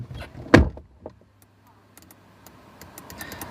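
A thump sounds, then a faulty power window motor in a car with 170,000 miles hums low and faint for a second or two as the window sticks halfway down, followed by scattered light clicks.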